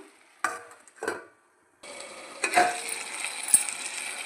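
Okra, green chillies and tomato cooking in oil in a pan, with a couple of lid or utensil clatters followed by a steady, close sizzle and hiss running to the end.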